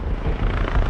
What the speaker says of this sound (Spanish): Se habilita un helicóptero de la policía para ayudar en la búsqueda.